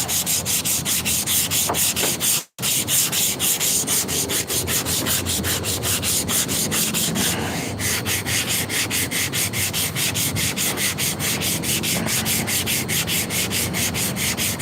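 Steady back-and-forth rubbing of 180 grit sandpaper over a scratched surface, a loud rhythmic rasp running continuously with one brief pause early on, no talking.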